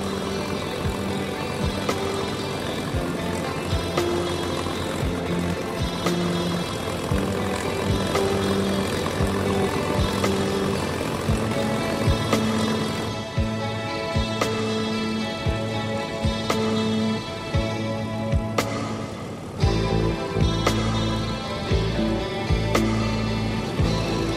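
P-51 Mustang piston-engine fighter plane, a throbbing engine drone with propeller buzz and harmonic tones that shift in pitch, plus occasional sharp clicks and a deeper surge near the end, no speech.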